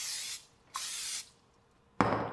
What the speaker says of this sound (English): And I'm gonna spray it again.